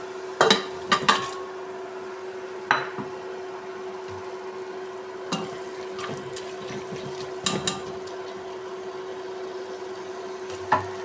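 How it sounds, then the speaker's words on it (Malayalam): Chicken pieces dropped into masala in a cooking pot for chicken curry, giving a few sharp clatters and knocks of metal and spoon against the pot, spaced out over a steady low kitchen hum, with no talking. "നമുക്ക് ഇതിനകത്തേക്ക് ചിക്കൻ കഷ്ണങ്ങൾ ഇട്ട് കൊടുക്കാം"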